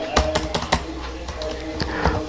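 Keys tapped on a computer keyboard, a quick cluster of clicks followed by a few scattered presses, close and fairly crisp, with no voices.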